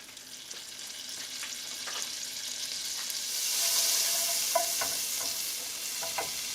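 Butter melts in a pan over medium heat for Alfredo sauce, a soft, steady sizzle that swells louder midway, with a few light utensil clicks and no talking.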